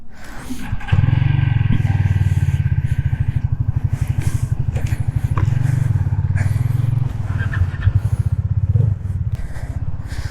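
A heavily loaded motorcycle rides along a highway on a long hot trip, with a loud steady engine drone and some wind rumble running continuously after a brief quieter start.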